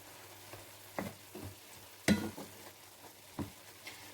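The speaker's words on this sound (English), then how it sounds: "I'm going to give that a good stir." Minced beef hotpot stirred in a pan, a few soft scraping strokes at irregular intervals over a quiet background with a faint sizzle.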